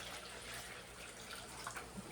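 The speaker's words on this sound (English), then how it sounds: "So now I'm getting to the point where I can pour from the 5 gallon over to the watering" Water pouring steadily from a 5 gallon jug into a watering can, a continuous close splashing rush with no talk.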